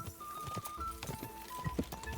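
Galloping horse hooves in a video game, a quick uneven clip-clop patter at moderate volume with a thin tonal whine running over it.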